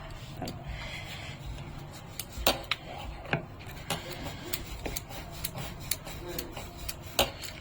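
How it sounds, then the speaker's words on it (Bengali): A rolling pin presses and rolls stuffed sattu paratha dough on a board, giving soft rubbing strokes punctuated by light wooden knocks and taps at an irregular pace, close and fairly quiet. "হালকা করে বেলতে হবে হালকা করে প্রেস করতে হবে নাহলে ছাতুটা বেরিয়ে যাবে"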